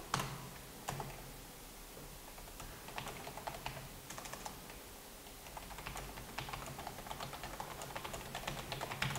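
Keyboard typing of text into a Tricaster Live Text character generator, a steady run of close, quick key clicks continuing alone with no talk over it.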